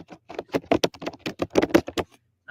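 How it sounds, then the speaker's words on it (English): Rapid keystrokes on a computer keyboard during an online sports talk session, a close, clear burst of irregular clicking taps that stops abruptly, with no voices over it. "Yeah, someone's typing."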